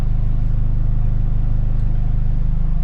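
A Toyota MR-S with a swapped 20V turbo engine, heard as a loud, steady low rumble from the car on the road, continuous and droning with no talk.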